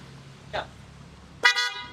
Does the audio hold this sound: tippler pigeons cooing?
no